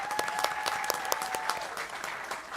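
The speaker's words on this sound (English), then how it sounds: "let's give one big more round of applause and we'll take some photos" Applause from the audience at a school district board meeting, many people clapping steadily at moderate volume in a room, with a faint tone lingering underneath.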